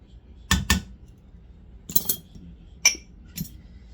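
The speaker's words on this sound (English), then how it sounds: "She just whisked everything together." Metal whisk striking the inside of a bowl while mixing baked bean sauce ingredients, four short bursts of clinks spaced apart, close and fairly quiet.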